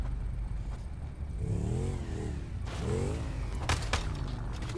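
Motorbike engine accelerating during a video game parkour challenge, a steady revving drone that climbs in pitch twice, with a brief clattering burst near the end.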